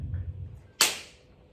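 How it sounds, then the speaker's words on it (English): A door is shut in one sharp slam, a single loud crack followed by a short fading tail, alone after a quiet low hum. "The mother shut the door."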